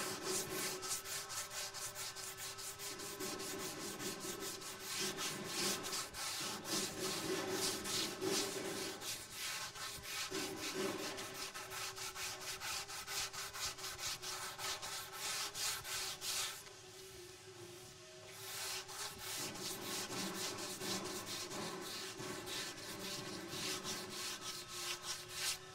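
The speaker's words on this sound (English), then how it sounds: "I'm still using 120 grit sandpaper because I know I'm going to be repriming this." Hand block sanding a primed surface with 120 grit sandpaper gives a continuous rhythmic scratchy rasp, close and steady, with long back-and-forth strokes and a brief softer pause partway through, and no voices.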